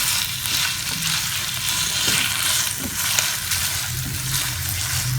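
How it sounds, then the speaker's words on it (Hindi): Goat liver (kaleji) frying in a pan over medium heat, a steady close sizzle with occasional stirring scrapes and no talk. "मीडियम टू हाई फ्लेम पर इसको अब हम 8 से 10 मिनट के लिए भून लेते हैं।"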